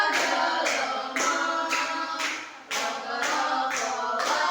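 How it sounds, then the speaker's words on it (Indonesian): Children clapping along in rhythm to a sung song about balloons, a steady beat of sharp, repeated claps from a group, with singing voices carrying the tune underneath. "Pakai tepuk tangan ya"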